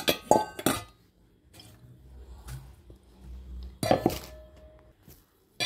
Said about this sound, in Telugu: ఇప్పుడు గిన్నెలో తీసేసుకుందాం మనం దీన్ని.